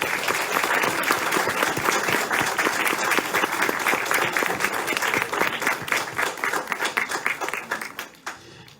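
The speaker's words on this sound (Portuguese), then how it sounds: "eu acho que eles merecem uma salva de palmas" A church congregation applauds children during Sunday Mass, a dense, steady clapping that carries for several seconds before thinning and fading out at the end.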